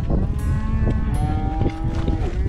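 Cattle on a beef ranch give a long, loud, close moo that rises and holds, with other cows lowing behind it and no talking.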